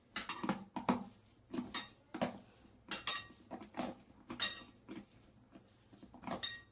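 Sev roll dough ingredients being mixed by hand in a bowl, with soft repeated patting and kneading strokes and faint clinks against the bowl, close and fairly quiet, no talking.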